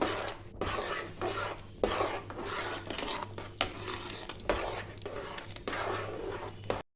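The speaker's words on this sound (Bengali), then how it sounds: "আর একটু নাড়িয়ে দেবো।" Khichuri is stirred in a cooking pot, giving repeated rough scraping strokes, fairly close and loud, in an uneven rhythm of short rasping bursts broken by brief pauses, against a low steady hum.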